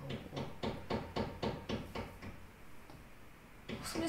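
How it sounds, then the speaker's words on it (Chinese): Construction hammering from the floor above comes through as a steady run of about eight muffled, evenly spaced thuds. They stop after a couple of seconds, leaving quiet room noise before a faint knock near the end. "我上面施工了，真的是哎。"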